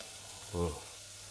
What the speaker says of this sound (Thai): หอมใหญ่ผัดเข้าไป